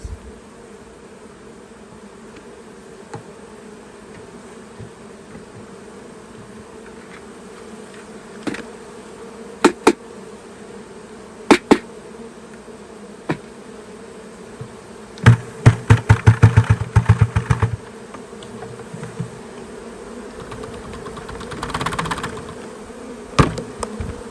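A honey bee swarm buzzes steadily in the background, with occasional louder bursts of buzzing as bees pass close, and a few knocks and rustles as they are tapped into a box.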